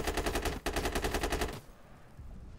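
Rapid automatic gunfire in Insurgency, a loud, evenly spaced burst with a brief break, then a second burst that stops sharply, leaving a quieter game background.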